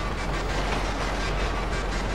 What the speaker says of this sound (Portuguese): Estamos viajando de trem aqui agora, né?